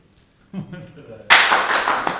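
After near silence and a brief murmur of people talking, a burst of hand clapping starts abruptly and continues loud and close, with a few sharper individual claps near the end.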